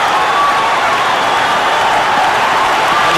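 A cricket crowd at Kingsmead cheers and applauds during an India vs England T20 World Cup match, a loud, continuous roar of clapping and shouting that fills the whole stretch.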